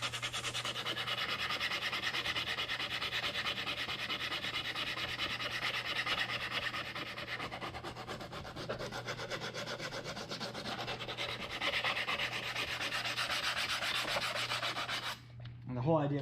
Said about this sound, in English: Right now I'm just trying to sand smooth, like roughly sand smooth some of these print lines.